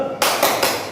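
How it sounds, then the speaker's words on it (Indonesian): A classroom of pupils claps the 'tepuk semangat' cheer rhythm together, sharp group claps landing in three quick bursts across a second, close and loud with no talking. "Tepuk semangat."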